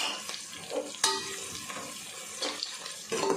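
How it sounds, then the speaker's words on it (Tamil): Onions and green chilies fry in oil for mutton biryani, giving a faint, steady sizzle broken by scattered clinks and scrapes of stirring. "வெங்காயம் நல்லா பொன்னிறமாக வதங்கட்டும்."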